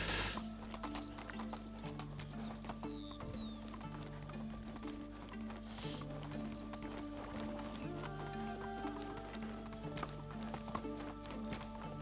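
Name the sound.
horse riding hoofbeats in video game Medieval Dynasty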